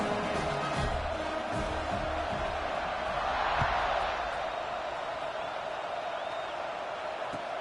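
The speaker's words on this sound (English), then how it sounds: "They're set to kick it off, and this crowd now ready to get behind them." A college football stadium crowd rumbles at kickoff, a broad, distant roar that swells briefly in the middle, with a few thuds and faint whoops inside the steady wash of noise.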